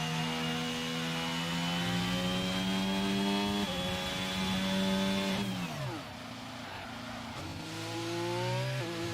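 A racing video game engine drone from a British GP race, holding a steady revving tone and then abruptly cutting out and dropping away, with the sound effects glitching into a lower, uneven hum afterward.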